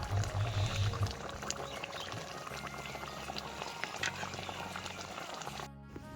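Raw oil drizzled over a simmering Bengali bata fish curry (bata macher tel jhal), giving a steady close sizzle and bubbling with a louder pour-like burst at the start, then continuing evenly until it drops near the end.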